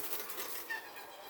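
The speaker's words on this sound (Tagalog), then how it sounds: "Maraming kalapati talaga to eh." Pigeons flapping their wings: a brief, faint, soft fluttering rustle with no voices.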